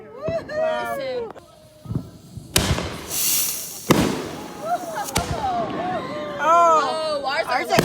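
Consumer fireworks bursting outdoors, several sharp loud bangs and crackles at irregular intervals, mixed with whistling, excited voices and crowd chatter.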